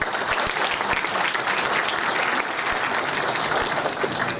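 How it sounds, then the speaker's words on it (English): A conference audience at the ICIT 2023 event at FAST-NU's Chiniot-Faisalabad campus applauds the organizing team members, a loud, dense wash of clapping that stays strong and unbroken throughout. "A big round of applause for my team members."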